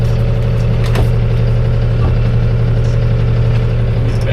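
A steady vehicle engine settling toward idle after being throttled back, a continuous low droning hum that stays even and close throughout, with no voices.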